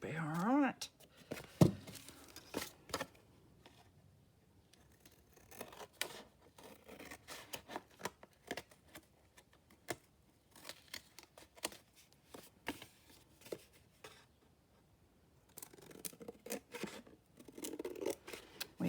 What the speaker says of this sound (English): So I'm just going to cut these edge bits off